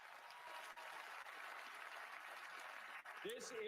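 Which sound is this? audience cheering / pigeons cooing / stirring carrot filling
audience cheering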